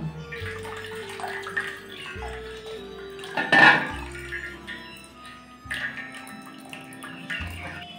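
Freshly drained chhana cheese curds are washed in water, with splashing and sloshing in a metal bowl and occasional pot clinks, close and soft, in several separate bursts.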